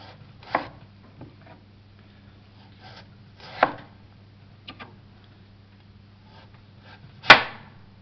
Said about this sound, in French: je vais faire des tranches fines dans ma pomme de terre